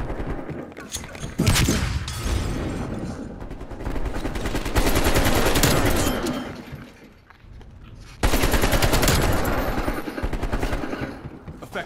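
Rapid automatic gunfire in Call of Duty Black Ops Cold War team deathmatch, loud close bursts of machine-gun fire in long stretches broken by a brief lull, with voices talking under the shots.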